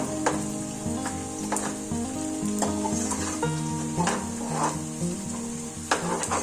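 Onions fry to golden brown in a pan, giving a steady, close sizzle with intermittent scraping and clinks from stirring throughout, no voices present.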